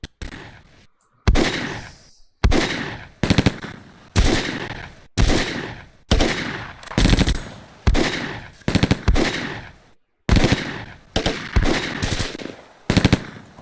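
Repeated machine gun bursts from the PC war game Close Combat, loud and close, coming in a dozen or so sharp rattling volleys separated by short silent gaps, with no talking.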